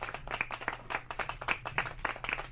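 An audience breaks into scattered clapping, hand claps coming in uneven bursts at moderate loudness with crowd murmur beneath.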